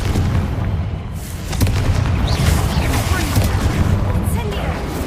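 Confringo blasts in the wizarding game Hogwarts Legacy, heavy booming explosions rumbling low and loud over a constant bed of battle noise, with a spoken incantation and other voices mixed in.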